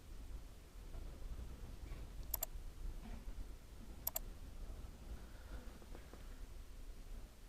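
Two sharp computer mouse clicks, spaced about two seconds apart, stand out against a faint, steady room hiss while a button labeled Load is pressed in a color palette program.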